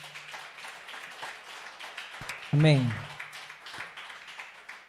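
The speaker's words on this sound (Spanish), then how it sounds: "Dale un fuerte aplauso a Cristo" A church congregation claps and applauds steadily throughout, a dense wash of hand claps beneath a preacher's voice that briefly rises in a loud exclamation midway.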